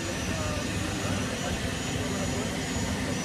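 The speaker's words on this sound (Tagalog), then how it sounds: "May dalawang jet" Two jet aircraft roar continuously at close range, a dense, loud, unbroken blast that fills the whole moment without letup.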